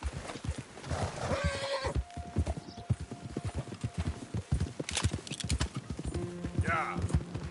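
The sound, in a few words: horse neighing and hooves, video game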